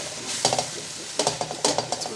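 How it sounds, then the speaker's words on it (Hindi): Chicken karahi being stirred and sautéed in a pan, with clustered scraping strokes of a spoon and a soft sizzle underneath, in two busy bursts separated by a quieter pause. "इसको मिक्स करेंगे।"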